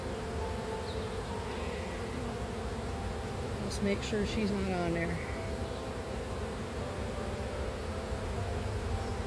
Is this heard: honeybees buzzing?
yes